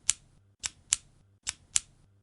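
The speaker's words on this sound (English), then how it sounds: "It sounded like clicking from a retractable pen when you push the end repeatedly fast." Sharp clicks from a retractable pen pushed repeatedly in a cold office cubicle, coming in quick irregular bursts of single and paired clicks, close and crisp against near silence.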